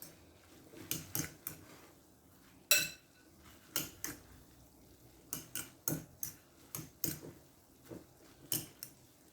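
Glass noodle dessert being mixed in a bowl, a series of sharp utensil clinks and scrapes against the bowl in an irregular rhythm, close and fairly quiet with no talking.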